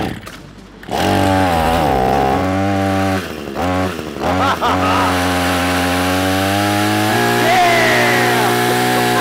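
A homemade motorized chainsaw prop buzzes loudly up close with a steady, harmonic motor drone that dips briefly a few times before running on continuously.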